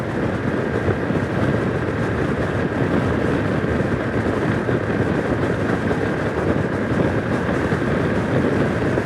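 Steady roaring wind buffets a rider on a 2025 BMW F900R naked motorcycle at about 70 mph, a continuous loud broadband rush with no pauses.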